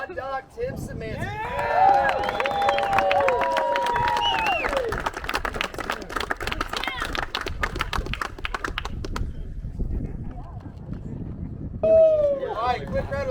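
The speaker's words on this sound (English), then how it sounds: "All right, quick round of applause for all you guys." A crowd claps and cheers for the winners at a Tactical Games shooting competition at The Range Complex, with scattered shouts over steady, fairly close applause that fades after about nine seconds before a brief cheer returns.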